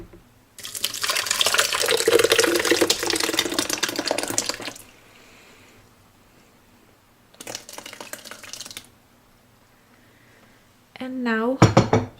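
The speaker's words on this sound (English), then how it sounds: "I'm gonna put half of it in the Vitamix." Water and coconut pour into a Vitamix blender jar in a kitchen, a long splashing pour followed by a shorter second pour, then brief clinks and a rising motor whir at the end.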